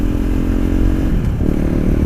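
KTM 390 Duke single-cylinder motorcycle fitted with an Akrapovic Moto2 GP titanium slip-on exhaust, idling or revving close by with a steady, loud, bassy engine drone that holds throughout.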